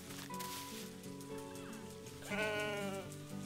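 An aardvark in the zoo-management game Planet Zoo gives a sheep-like bleat, a wavering harmonic cry rising clearly over steady background game ambience near the end.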